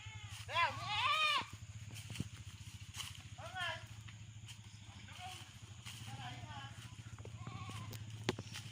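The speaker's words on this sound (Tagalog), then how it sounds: "Ba't may kambing?" A goat bleats in loud wavering cries near the start, then gives several softer, shorter bleats, over a steady low hum of a farm setting with a brief click or two.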